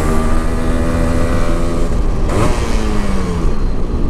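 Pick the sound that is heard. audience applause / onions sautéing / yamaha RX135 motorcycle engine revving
yamaha RX135 motorcycle engine revving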